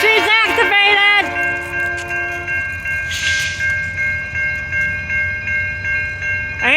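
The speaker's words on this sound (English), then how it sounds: "Canadian National Freight Train!" A Canadian National freight train, an ethanol train, sounds its horn in a loud blast at the start, then rolls past a road crossing with rhythmic wheel clatter while crossing bells ring steadily. A voice speaks briefly over it.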